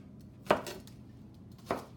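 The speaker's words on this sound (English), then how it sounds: "I'm just cutting these, chopping them." Two sharp knife chops through vegetables on a cutting board for pineapple salsa, about a second apart, close and crisp against a quiet kitchen.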